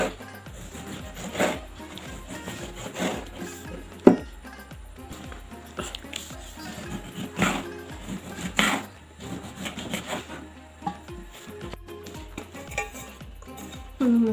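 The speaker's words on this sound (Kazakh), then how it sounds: "Қызанағымызды жіңішке етіп турап аламыз." Tomatoes sliced thinly with a knife on a board for homemade pizza topping, a series of soft, irregular cutting taps and scrapes, close and fairly quiet, with no talking.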